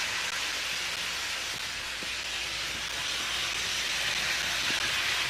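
Model trains run on a layout, producing a faint, steady rumble and hiss with soft, scattered clicks from the track and no voices.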